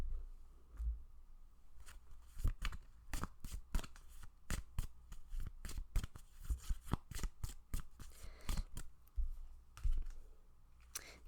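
Tarot cards are shuffled by hand in quick, irregular bursts of crisp riffling and slapping, close and fairly quiet, with short pauses between passes and no talking.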